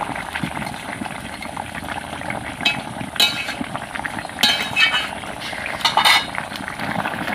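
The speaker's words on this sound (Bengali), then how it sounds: "এখানে আমি ভেজে রাখা মাছটা দিয়ে দেবো। অল্প একটু ফুটিয়ে নেব।" Fried rohu fish pieces simmering in a thin curry with boiled potatoes, a soft continuous bubbling and sizzle from the pot broken by several sharp clinks and scrapes of a metal spoon against the pan.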